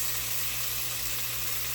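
Onions sizzling and frying in a pan as the base for homemade marinara sauce, a steady dense hiss filling the short stretch without talk.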